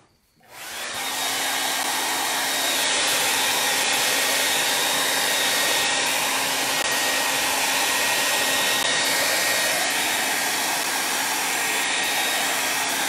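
A hair dryer switches on and quickly settles into a loud, steady whirring blow while drying craft fonts made with a Cricut, continuing unbroken with no talk.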